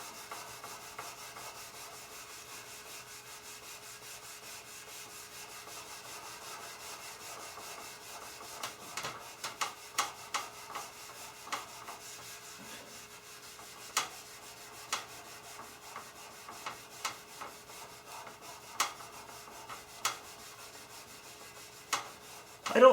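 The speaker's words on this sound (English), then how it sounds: "I'm going to try some more with the steel wool just on this spot right here." Steel wool rubs over one spot on the grill of a 1972 K25 truck, a quiet scratchy scrubbing that turns into a run of short rhythmic strokes and light clicks.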